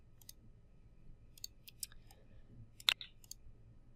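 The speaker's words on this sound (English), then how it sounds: "So I'll click create." Computer mouse clicks, a few light, crisp taps close by in a quiet room, with one louder double click near the end.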